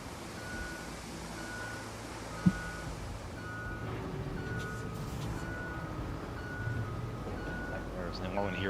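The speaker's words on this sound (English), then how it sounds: "all I can hear is these backup beeping noises all day" Repeated backup beeps from a heavy vehicle such as a bulldozer in the RoadCraft road-clearing game, pulsing steadily at an even rhythm over a low engine rumble, with a voice talking underneath.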